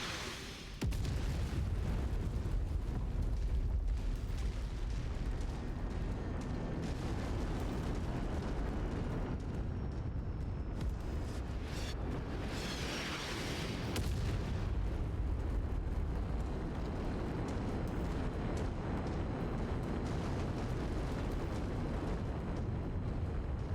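Heavy artillery explosions in the mech combat game MechWarrior 5: Mercenaries, a continuous loud rumbling barrage of booms and blasts that runs for the whole stretch with no talking.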